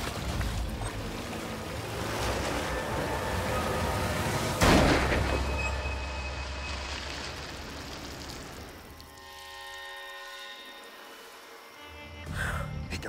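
A single sharp gunshot cracks from a boat during an alligator hunt in a swamp, rising over outboard engine drone and water noise, with faint voices around it.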